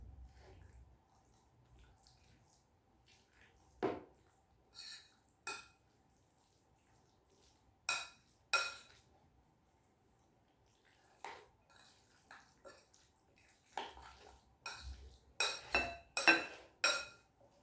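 A Gopakala mixture being mixed in a bowl, heard as sparse, quiet clinks and scrapes of a spoon against the bowl, separated by near silence and growing busier toward the end.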